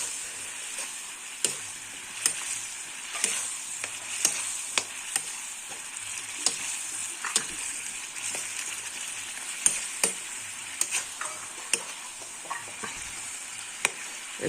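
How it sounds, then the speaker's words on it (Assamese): Mutton with onion, ginger and garlic cooking in a pot, a soft bubbling sizzle with scattered sharp clicks and ticks of a stirring utensil, fairly quiet and close, no voices. "এই যিটো আদা নহৰু তাৰ ৰসখিনিয়ে একদম মাংসৰ প্ৰতিটো কোণত সোমাই যোৱাকৈ সিজিব দিম এতিয়া ধুনীয়াকৈ বইল হ'ব দিম"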